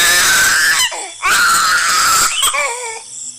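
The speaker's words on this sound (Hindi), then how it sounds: "गुड़िया के रोने की आवाज से कोमल की लाश तड़पने लगती है और चुड़ैल बनकर जमीन से बाहर आ जाती है।" A baby crying as a horror-story sound effect: loud, strained infant wails come in three bursts separated by brief gasping pauses, with the last cry trailing off into whimpers.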